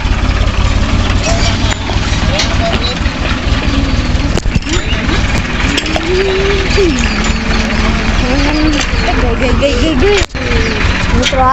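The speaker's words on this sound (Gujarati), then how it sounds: "मित्रों आगे ट्रैक्टर जा रहा है" A tractor engine runs steadily ahead on a road, a continuous mid-pitched rumble heard from behind, with a person talking over it throughout.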